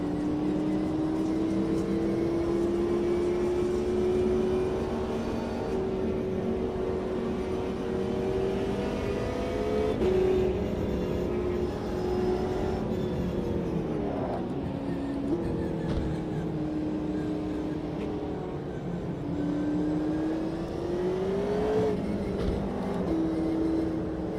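Race cars in a racing video game on a slow cooldown lap, a steady droning engine note rising and dipping gently with gear changes and light throttle, continuous and close for the whole stretch.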